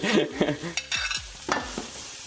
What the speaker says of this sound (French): on fait revenir nos oignons dans un peu de beurre pour pouvoir faire cette petite compotée